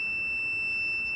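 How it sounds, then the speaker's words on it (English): A steady high electronic beep sounds while a motorcycle turn-signal wire is tested. The tone is continuous, faint and alone, with no speech. "a beep."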